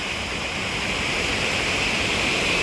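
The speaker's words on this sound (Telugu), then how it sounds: "నీళ్ళు మాత్రం భలే వెళ్తున్నాయండి" Strong water rushing steadily at a village pond with fishing nets set across it, a constant broadband roar close by that holds unbroken without pauses or voices.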